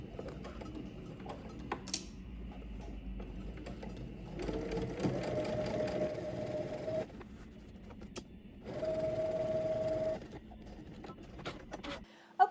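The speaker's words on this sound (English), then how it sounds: "now we're going to head to the sewing machine, and following your existing stitching, you're just going to stitch through all layers" A home sewing machine stitching through all layers of a garment along existing seam lines, in two steady humming runs of a few seconds each, separated by quieter handling noise.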